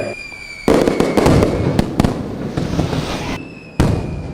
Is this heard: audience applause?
no